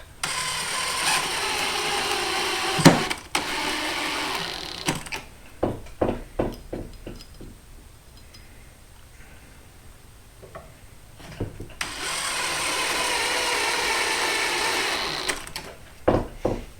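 A power drill or driver sinks the last screws into a rustic wooden picture frame, two loud whirring bursts at the start and end with sharp ratcheting clicks and taps between them, close by.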